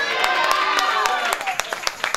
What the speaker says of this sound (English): I dare you to clap your hands and shout hallelujah.